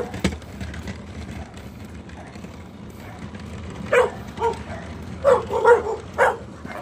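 A dog barks several times in short bursts over steady background noise in a neighborhood flooded by high tide in Malolos, Philippines, the barks clustered toward the end.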